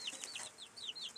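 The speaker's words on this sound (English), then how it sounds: "Hi, baby chickens." Baby chicks peeping and clucking inside a small elevated coop, a steady run of high, close chirps and soft clucks overlapping through the whole moment.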